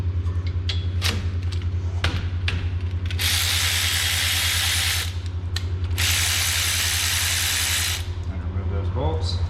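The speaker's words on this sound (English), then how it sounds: "And remove those bolts." Caliper bolts coming off the front brakes of a 2016 Jeep Renegade, sharp ratchet clicks followed by two long rattling bursts of the wrench spinning over a steady low hum, close up.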